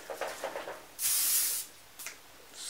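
A short hissing burst from an aerosol hairspray can, about half a second long, followed by a briefer second spritz, close by.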